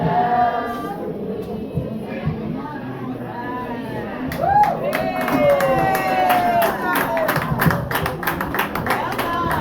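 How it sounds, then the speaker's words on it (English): Audience clapping at a primary school class of 2025 graduation after a primary department performance, a dense patter of many hands that swells midway and continues steadily amid crowd murmur, with a few vocal sounds under it. "Can we clap them again?"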